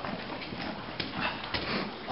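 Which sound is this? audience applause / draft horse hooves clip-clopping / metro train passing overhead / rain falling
draft horse hooves clip-clopping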